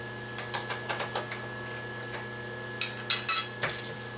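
A metal-lathe spindle clamp is tightened by hand, giving a quick run of small ratcheting clicks followed by a few louder metallic clanks and scrapes, close by with no talking.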